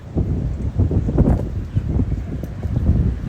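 Wind gusts blow across an open countryside setting, a continuous low rumbling buffet with uneven surges and no voices.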